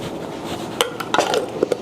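A spoon stirring seasoning into a pot of quinoa, several irregular metallic clinks and scrapes against the pot, close and fairly crisp over a low background hum.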